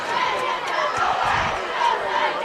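Large crowd at a West Catholic vs Spring Lake high school football game, a steady dense roar of many voices and cheering filling the stands without pause.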